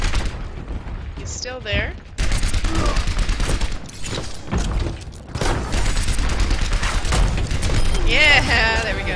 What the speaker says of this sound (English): That sounds like a Junkrat lobbing his grenades.